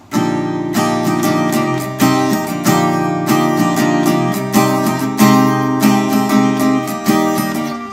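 Guitar music with a sustained droning tone beneath, struck chords repeating every second or so, loud and close with no voices.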